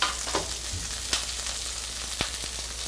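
Asparagus sizzles in hazelnut-scented brown butter in a pan, a steady quiet frying hiss broken by a few sharp pops and spits.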